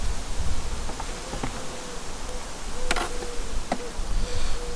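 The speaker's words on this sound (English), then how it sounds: "on the other side again we've got bees working" Honey bees from a small swarm colony housed in a poly nucleus box hum softly in a low continuous drone, with faint rustling and a few sharp ticks and knocks from the frames being handled.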